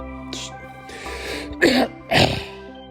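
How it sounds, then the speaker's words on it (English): Two loud, harsh coughing bursts from a person, close up and one after the other, coming after a quieter throat-clearing sound, with a steady tonal game music hum underneath. "These coughs are getting bad."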